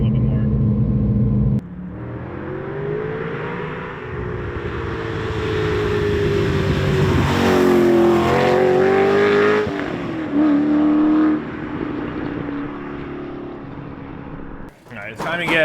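A V8-swapped Porsche 911 drives past and away, its engine note rising and falling through gear changes as it accelerates, loud and steady, then cutting off near the end.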